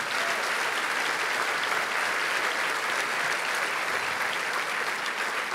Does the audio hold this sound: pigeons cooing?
no